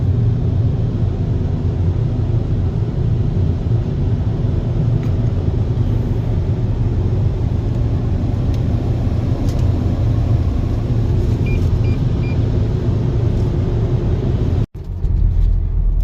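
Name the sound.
car driving home from car wash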